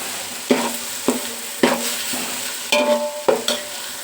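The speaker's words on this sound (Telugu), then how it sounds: "మసాలా పొడి బాగా కలుపుకోవాలి" Biryani chicken being stirred with masala powder in a pan: a spoon scrapes and clacks in repeated strokes roughly every half second over a steady, close sizzle, with no voices.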